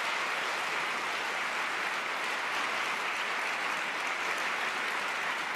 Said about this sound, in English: so I'm disturbed by the clapping.